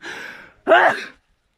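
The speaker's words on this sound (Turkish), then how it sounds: "Hapşırdım." A breathy intake followed by a sharp, forceful burst of air, a single sneeze outdoors by a village pond, close and loud, then silence.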